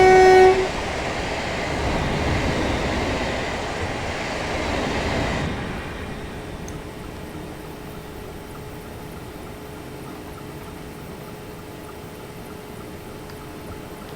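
Train passing in Train Simulator 2018 on the Guildford to London Waterloo route toward Surbiton, a broad rumbling roar that swells for several seconds, then drops away abruptly to a quieter steady hum with faint tones.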